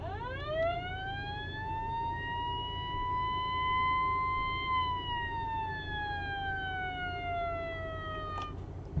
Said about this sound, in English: that is indeed a copper siren.